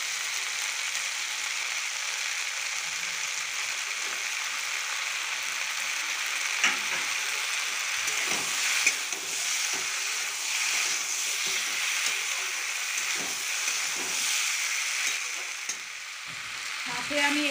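Tomatoes go into a sizzling pan of Amudi fish and potato curry, a steady hiss of frying carrying on throughout with scattered clicks and stirring scrapes, close and fairly loud with no talk.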